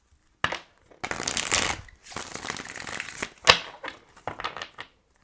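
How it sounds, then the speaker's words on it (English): Tarot cards being shuffled by hand: several bursts of close, crisp riffling and flapping separated by short pauses, loud and clear with no talking. "All right, last shuffle."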